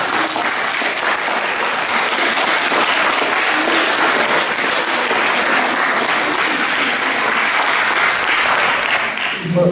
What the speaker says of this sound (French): Je vous propose d'applaudir pour le remercier.